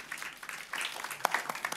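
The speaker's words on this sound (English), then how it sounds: "applause for me" Brief scattered applause from a forum audience, faint and sparse clapping with a few louder claps, under light background murmur.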